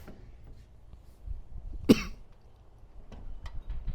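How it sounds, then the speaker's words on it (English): A single sharp cough breaks through a quiet, slightly rumbly room, with faint background noise before and after. "Probably have developed a cough."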